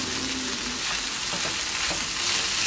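Chickpeas fry with cumin powder in a hot tempering, giving a steady, close sizzle with soft stirring scrapes running throughout and no speech.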